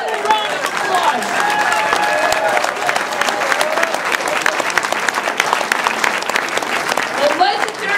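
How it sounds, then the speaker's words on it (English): A forum crowd applauds the box carriers, dense continuous clapping from many people filling the room at close range, with cheering voices mixed in throughout. "Let's give these people a round of applause"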